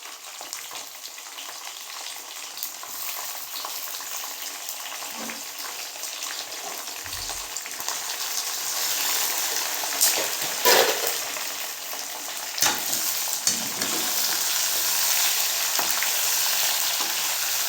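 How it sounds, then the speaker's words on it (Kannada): Onion slices dropped one by one into hot oil, giving a steady broadband sizzle with a few sharper crackles and splashes partway through, no voices. "ಈಗ ಒಂದೊಂದಾಗಿ ಎಣ್ಣೆಯಲ್ಲಿ ಹಾಕ್ತಾಯಿದ್ದೀನಿ"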